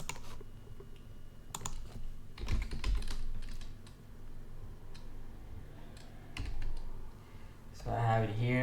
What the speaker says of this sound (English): I'm going to type data lookup.